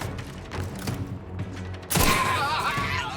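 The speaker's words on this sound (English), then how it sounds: "Oh, sniper." Sniper gunfire in The Outer Worlds 2: after a stretch of rhythmic game background, one sharp, loud shot cracks out partway through, followed by a sustained roar and echo.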